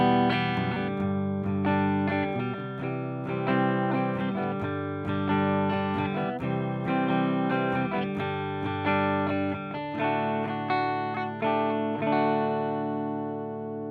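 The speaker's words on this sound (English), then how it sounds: "So we'll start with some clean tones again," An electric guitar through a Marshall DRP-1 pedal plays strummed chords and ringing notes in a clean amplified tone, rhythmic and sustained, then lets the last chord ring out.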